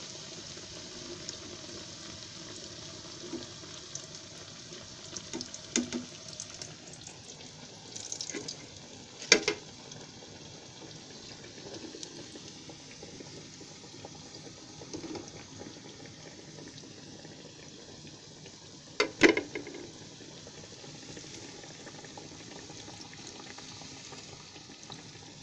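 Sweet potato kachori frying in hot oil over medium gas, a steady soft sizzle and bubbling that runs throughout, broken by a few sharp clinks and knocks of utensils.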